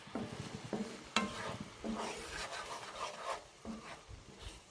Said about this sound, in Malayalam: ഇതൊന്ന് കുറുകി വരണം, അതുവരെ നമുക്ക് ഇളക്കി കൊടുക്കാം കേട്ടോ